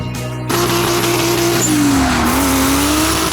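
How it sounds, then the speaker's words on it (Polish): A drift car at the Kielce track holds a loud sustained engine note as its tires squeal through a long slide, with the pitch dipping and climbing again. It sounds close and continuous, with no voices. "pooglądamy w końcu troszeczkę jazdy i poczujemy dymu, czyli zaczynamy od przejazdów na torze"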